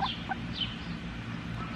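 A friendly Leghorn hen clucks a few short, soft calls near the start, then the barnyard goes quiet with low background rumble.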